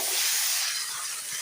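Water hisses loudly as squash and potatoes hit a hot pan of fried black cumin seeds, cooked without oil. The burst is close and strong, then eases off slightly.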